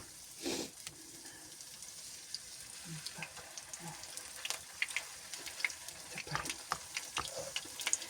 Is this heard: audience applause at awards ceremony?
no